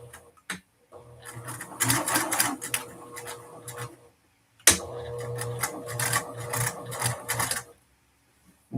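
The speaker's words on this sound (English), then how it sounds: "And we're going to sew it at a 3/8 seam allowance." Sewing machine running in two long stitching bursts as a dress pocket is sewn on at a 3/8 inch seam allowance, its rapid needle clatter close and steady, with a short pause between runs.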